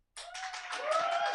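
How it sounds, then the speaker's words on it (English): A burst of audience clapping at a comedy show starts abruptly and continues steadily, a crowd applauding with no talk over it. "Round of applause."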